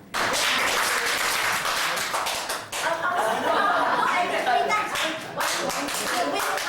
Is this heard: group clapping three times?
yes